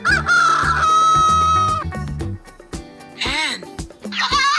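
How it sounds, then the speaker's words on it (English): A cartoon rooster crows loudly with a long drawn-out cock-a-doodle-doo, followed by a couple of shorter calls, all over a bouncy children's music backing. "Rooster."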